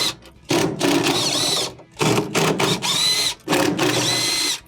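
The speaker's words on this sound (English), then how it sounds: "go around the perimeter and remove the 13mm bolts that are holding it on." A power drill backs out the 13mm bolts holding the transmission on a Samsung washer: three close, loud whirring bursts of about a second each, separated by short pauses, with no talking.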